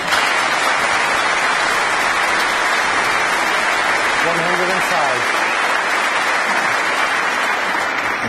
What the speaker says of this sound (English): A terrific round of applause from this crowd in the Kelvin Hall.